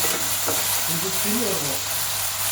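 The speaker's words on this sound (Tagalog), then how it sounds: "Lulutuin muna natin yung patatas." Potatoes frying in a pan give a continuous, close crackling sizzle with a faint voice in the background.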